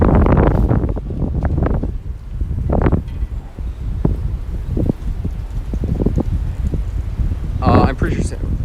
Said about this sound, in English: just getting through that gust